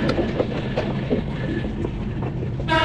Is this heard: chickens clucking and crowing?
no